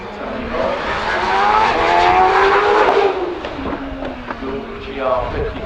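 A Gould GR55 hillclimb race car accelerates hard up a British Hillclimb Championship course at Harewood, its rising engine note climbing and shifting through gears, loud and close, with a commentator talking over it.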